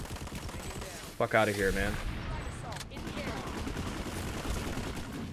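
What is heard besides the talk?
gunfire in the video game Planetside 2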